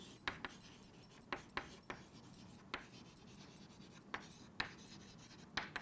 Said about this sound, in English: let me just write over here.